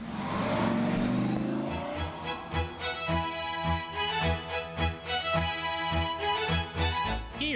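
A Lamborghini engine revs hard in a loud opening surge, followed by a rhythmic run of pulsing bursts with a harmonic, tonal edge, near and dominant, with no voices.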